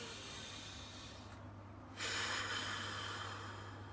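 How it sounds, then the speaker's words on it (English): Deep, slow breathing, drawn in through the nose and let out through the mouth, close and alone; a soft airy inhale gives way after a brief lull to a louder, fuller exhale. "Like deep breathing, that type of thing"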